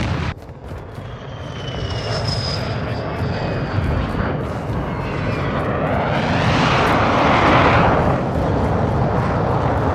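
A close air support jet in Call of Duty: Modern Warfare II roars overhead, a loud broad rushing engine sound swelling and peaking as it passes close, with faint distant rumbles and brief talk.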